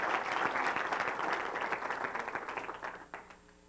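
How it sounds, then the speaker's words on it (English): Applause from a seminar audience welcoming a professor onto the stage, a dense steady clapping that stays loud before thinning into scattered claps near the end. "give him a big applause to Professor Murrieta"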